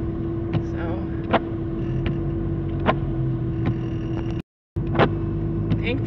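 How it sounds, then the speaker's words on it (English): A car's defrost blower fan runs in a Michigan winter, a steady tonal hum with engine drone beneath, broken by occasional sharp clicks and a momentary dropout. "my blower fan started working again"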